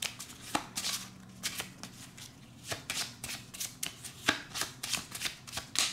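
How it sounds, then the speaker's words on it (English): Playing cards for the Sprawlopolis card game being shuffled by hand, a quick series of crisp riffling bursts and soft taps repeating at an uneven rhythm, close and quiet with no one talking. "To set up a game of Sprawlopolis, we're going to begin by shuffling the cards."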